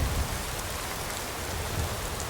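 Steady rain falls on the ground in the video game Skyrim, a dense, even hiss of drops that holds throughout with no voices.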